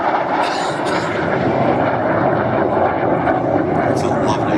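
A MiG-17F jet roars past in a low, slow pass at an air show, a loud steady engine rumble that dominates throughout.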